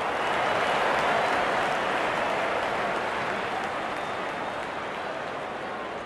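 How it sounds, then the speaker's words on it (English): Dense, continuous roar of a packed stadium crowd cheering in a cricket video game, steady and loud throughout with no distinct voices standing out. "The stadium is jam-packed and the fans are cheering for their favourite team."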